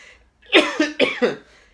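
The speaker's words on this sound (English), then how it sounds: "bear with me as I cough my way through" A short burst of harsh coughs from a person with a cold, three or four close together, loud and near, with no talking.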